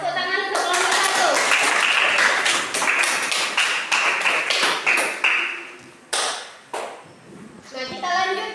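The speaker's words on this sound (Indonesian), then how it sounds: "Tepuk tangan untuk kelompok 1." Classroom applause at an Indonesian madrasah science lesson, a burst of children's clapping and sharp taps, fading in uneven waves, with kids' voices mixed in.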